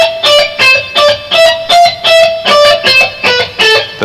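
Distorted electric guitar playing a scale at a slow tempo, each note picked separately in an even rhythm, close and loud with no voice over it.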